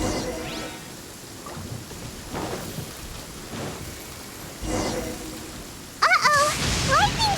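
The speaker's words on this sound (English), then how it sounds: "Lightning storm!" In the video game Genshin Impact a lightning storm brings steady rain with rolling thunder and sharp cracks, a sudden loud burst near the end, while voices chirp faintly over the downpour.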